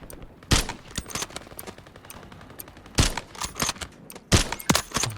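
Sniper rifle fire (Kar98k marksman rifle) in the video game Call of Duty Warzone: several sharp, loud gunshots spaced a couple of seconds apart, each followed by smaller clicks and echoing reports.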